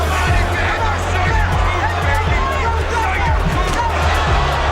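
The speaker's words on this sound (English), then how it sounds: "The crowd got excited." A boxing arena crowd of heavyweight fight spectators cheers and murmurs in an excited swell, with a commentator talking over the continuous roar.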